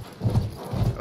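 Horse hooves in the video game Battlefield 1, two loud, close pairs of dull clip-clop thuds in quick succession.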